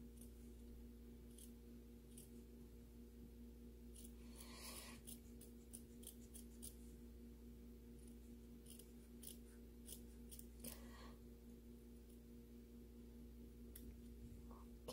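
Scissors cut around embroidered fabric for a fur-glove brooch, with quiet close snips and blade rubs in irregular bursts over a faint steady hum, no talking.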